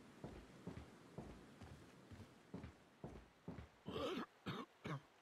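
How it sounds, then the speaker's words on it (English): A man's cough and throat clearing in an old Resident Evil-style video game, heard faintly among soft footstep-like thuds, followed by a few louder, sharper knocks near the end. "Ooh, someone's coughing."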